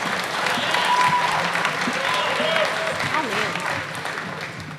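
Applause at a 2018 high school commencement for a speaker taking the stage, steady crowd clapping with voices and a brief remark heard over it.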